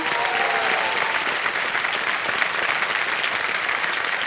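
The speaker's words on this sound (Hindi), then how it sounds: "एक बार फिर तालियां बजाएं।" A studio audience at a televised quiz show with a hot seat claps steadily in dense, sustained applause throughout, with no voices over it.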